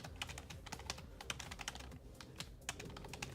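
Rapid, uneven clatter of typing on a computer keyboard, with bursts of closely spaced key clicks running steadily throughout at moderate loudness, no voices.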